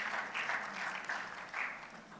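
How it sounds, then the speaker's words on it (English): Applause from a summit audience as a bank chief executive walks up, a steady, moderately loud patter of many hands with no voices over it. "A round of applause for him as he comes up."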